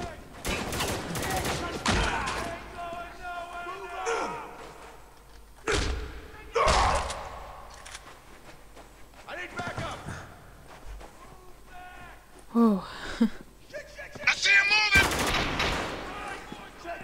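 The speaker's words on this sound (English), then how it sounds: "We're taking some heavy fire here!" Gunfire in the video game Spec Ops: The Line, loud bursts and single shots with heavy thuds in irregular clusters, mixed with shouted game dialogue and a player's voice.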